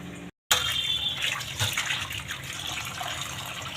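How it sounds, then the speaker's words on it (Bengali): A tap gushes water over catfish being washed. A brief silence comes first, then a strong, steady rush of running water splashes close by for the rest of the stretch, with no voices. "এবার আমি মাছটা আবার ধুয়ে নেবো"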